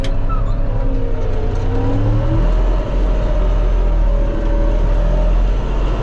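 A Deutz tractor engine runs steadily in a corn field, a loud, continuous low rumble with a droning tone that dips briefly and then shifts slightly higher in pitch, heard close and alone without speech.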